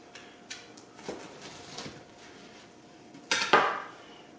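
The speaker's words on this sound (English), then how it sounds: "I'm just going to basically slice this baby in half so I don't make a mess out of everything" A knife cuts a fried chicken sandwich in half, giving faint scrapes and taps of cutlery on a plate, then a louder clatter of the blade against the dish near the end.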